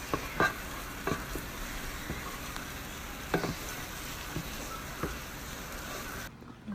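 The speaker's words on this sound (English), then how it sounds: "I'm going to fry it up with the garlic." Tomato paste and garlic with a little crushed pepper fry in a pot for a pork and squash stew, a steady soft sizzle broken by scattered clicks and scrapes of stirring, with no talking.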